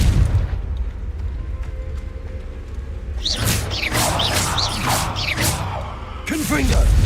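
The Confringo fire spell in Hogwarts Legacy bursts into heavy, rumbling booms with whooshing swells over a steady low battle rumble, while a character's voice is heard.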